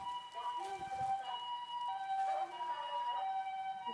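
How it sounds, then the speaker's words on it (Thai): A faint ambulance siren wails in the distance over a low background hum in a vegetable garden in Thailand, steady tones rising and falling without fading out. "ถ้ามีเสียงรบกวนมีรถพยาบาลผ่านมาก"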